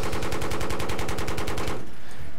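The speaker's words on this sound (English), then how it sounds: "The one thing I will say with the gunship is that there is a limited range to what you can fire" Rapid heavy cannon fire from an AC-130 gunship in Battlefield 3 on the Bandar Desert map, a loud, steady burst of evenly spaced shots that cuts off abruptly, leaving a brief quiet tail.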